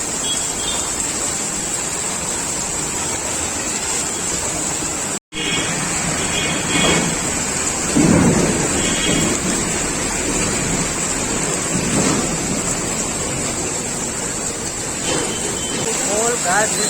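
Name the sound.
heavy rain with thunder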